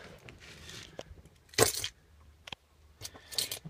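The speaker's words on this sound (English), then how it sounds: "Grab the keys." Keys jangling near the ignition of a 1978 GMC Diplomat motorhome, several bright metallic rattles in short bursts with quiet pauses between.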